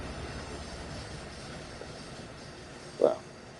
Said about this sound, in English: the ACS 64 train disappeared into the darkness